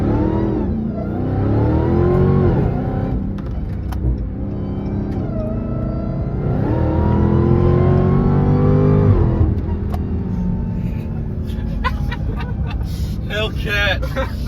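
A Dodge Hellcat engine roars as it accelerates, dropping and climbing in pitch through rapid gear changes and downshifts, with a person talking over it.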